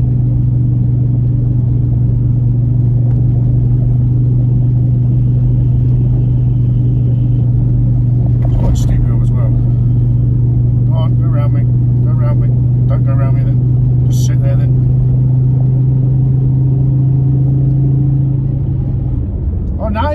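A VW Golf Mk4 with a damaged driveshaft drives at about 3,000 RPM, giving a loud, constant engine drone and road rumble with some rattling clicks, while someone talks over it.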